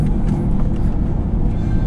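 Steady, loud low-pitched drone of a stock 1990s manual executive car's 4G63 engine pulling hard as it accelerates, heard close and continuous with no voices.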